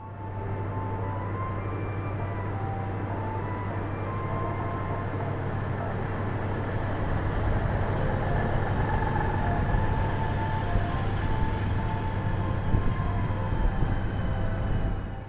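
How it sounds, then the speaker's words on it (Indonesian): Green KCIC feeder train between Bandung and Padalarang, Indonesia, heard from nearby as a low steady engine drone and rolling rumble that swells gradually louder toward the end. "Dan ini udah mau masuk kereta feeder lagi, teman-teman."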